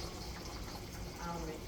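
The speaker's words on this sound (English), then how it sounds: "add the hot water, 1 cup, 1/3 cup of red wine, and half of a teaspoon of soy sauce" Hot water and red wine pour into a pan for a spaghetti sauce, a soft continuous splashing trickle lasting a moment at low level.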